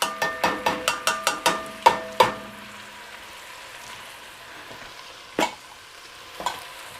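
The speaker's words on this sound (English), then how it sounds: "Stir that in. Scrape that bottom up, all that fond off the bottom of the pot." A spoon scrapes and clacks against the bottom of a pot as canned chopped green chilies are stirred in, with a quick run of rhythmic strokes followed by a few spaced knocks over a faint background sizzle.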